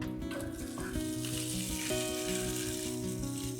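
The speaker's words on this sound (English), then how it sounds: "I'm going to fry the rest in the same fat." Pork pieces for Goan sorpotel sizzle steadily in their own rendered fat with no added oil, a dense continuous crackle with faint tonal hum from the kitchen underneath throughout.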